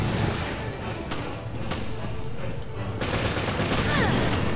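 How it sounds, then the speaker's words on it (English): Machine gun fire in the video game Resident Evil Revelations, dense bursts of rapid shots with crashing impacts over a loud, busy game soundscape, continuous for several seconds. "I don't want to use all my machine gun ammo because it's so good."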